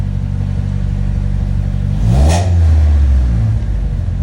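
A small single-cam car engine runs after being repaired. A steady idle swells into one short rev that climbs and then settles back to a running hum, close and loud.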